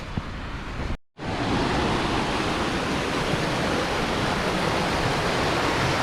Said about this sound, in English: we're going down to the waterfall to cool off.